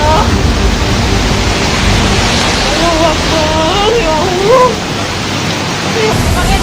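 Floodwater rushes loudly and steadily through a disaster-struck area in Aceh, Sumatra, a continuous close roar with faint human calls rising over it partway through.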